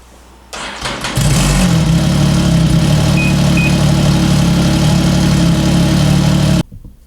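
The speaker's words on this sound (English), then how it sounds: "Let's start it up." A Ski-Doo 1200 4-TEC snowmobile engine cranks briefly, catches and settles into a loud, steady close-up idle that runs for several seconds before cutting off abruptly.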